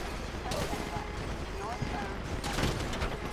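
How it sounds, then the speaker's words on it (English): Bursts of gunfire in Grand Theft Auto 5 during a police chase, dense rattling shots layered over constant game noise and a voice talking over the action. "You hear that gunfire?"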